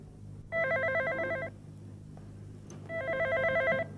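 Telephone bell rings in two loud bursts of about one second each, separated by a pause, in a quiet room.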